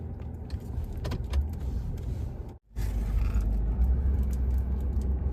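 A car rolls slowly through an RV park at Canyon Lake with a steady, low engine and tire rumble. A light rattle of keys runs through it, and there is a brief dropout midway. No voices are heard.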